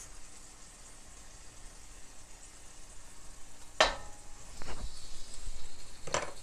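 Orange ginger sauce poured into a pan of sizzling pork: a sudden hissing splash followed by steady frying sizzle and a few stirring scrapes, fairly quiet and close.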